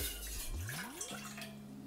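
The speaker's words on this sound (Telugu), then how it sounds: "స్టవ్ మీద గిన్నె పెట్టుకుని అందులోకి 2 cups వాటర్ తీసుకుందామండి" About two cups of water pour into a pot on a stove with a soft, faint gurgle, the pitch rising briefly as the vessel fills, then settling.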